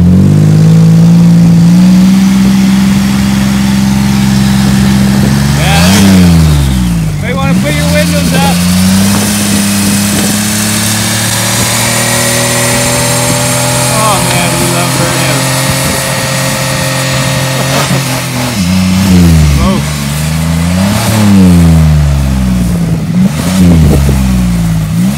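A Pontiac Grand Prix engine revs hard in repeated surges, rising and falling in pitch, loud and close, with a steady sustained high-rpm stretch in the middle and voices talking over it.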